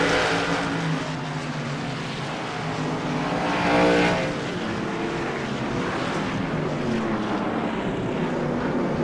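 Race cars roar past on the Langley Speedway oval during a CRA special event race, a loud continuous engine drone with one rising pass-by swell near the middle, heard from trackside without talk.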